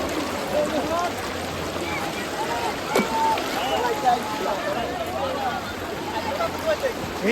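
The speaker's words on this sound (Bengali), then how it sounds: "আমরা এখন পানির মধ্যে হাঁটতেছি।" People wading through shallow water at a rocky tourist spot, with uneven sloshing and splashing from steps that comes and goes over several seconds, nearby, under excited voices talking.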